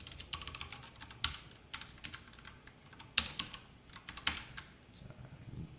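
Quiet, irregular keystrokes tap on a computer keyboard as code is typed, a close, soft patter with a few sharper clicks and no talking.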